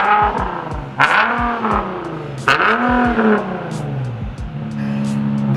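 Infiniti G37 with its mufflers cut off, the raw exhaust barking through several sharp throttle blips and revs that rise and fall, loud and close, with no talking.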